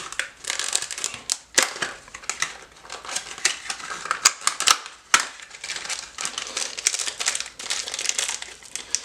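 Crinkly plastic and cardboard packaging of an Apex Tactical Action Enhancement Trigger Kit being opened by hand, with close, irregular rustling and crackling and a few sharp snaps, with no talking.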